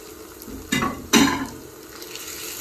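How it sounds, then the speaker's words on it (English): A spoon scrapes twice through tomato paste, rosemary and onions cooking in a pan, giving two brief close scuffs over a low, steady sizzle. "Then just going to stir in that tomato paste and rosemary into our onions"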